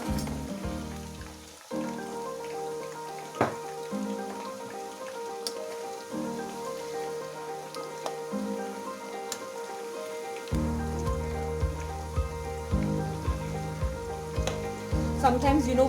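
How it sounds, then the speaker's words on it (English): Corn flour coated chicken pieces deep frying in hot oil, a steady loud crackling sizzle with bursts of bubbling as more pieces drop in, continuous throughout without talk. "So we deep fry this."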